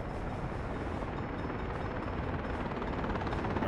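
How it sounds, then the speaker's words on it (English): Helicopter in the city-building game Workers & Resources: Soviet Republic, a steady broadband rotor and engine drone holding at an even level, with no talk. "There's the helicopter."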